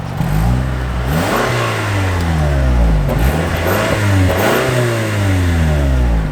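A small sedan's car engine revs up and falls back repeatedly, close and loud, with rising and falling harmonic sweeps over a steady throaty rumble and no talking.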